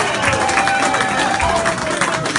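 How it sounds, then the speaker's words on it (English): Crowd at a Cardiff rugby match applauding a player marking his 100th game, a loud mass of clapping and cheering with talk mixed into the din. "So if I can get a round of applause"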